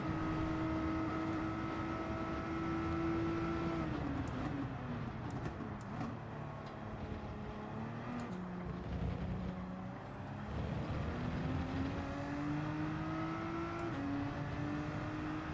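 Race car engines in the Gran Turismo 7 video game, a continuous droning whine with shifting tones as cars accelerate and lift, sustained throughout at moderate level.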